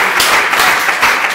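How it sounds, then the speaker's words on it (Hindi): Loud, dense audience applause at a poetry and comedy stage event welcomes a performer, a continuous wash of many hands clapping close by. "जोरदार तालियां बजाकर भाई अमित चितवन को आमंत्रित करें।"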